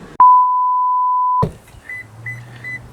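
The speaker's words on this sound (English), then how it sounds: "And it's beeping again." A single sharp electronic warning beep from a 2022 Lexus LX 600 F Sport, held steady for about a second, loud and close, followed by faint softer tones and low hum.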